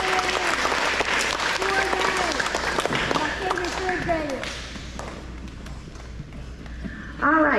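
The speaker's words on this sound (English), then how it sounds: "So let's give them all a round of applause" An audience applauds award winners at an elementary school ceremony for grades 3 to 5, a steady wash of clapping lasting throughout, with a voice talking over it early on and a louder burst near the end.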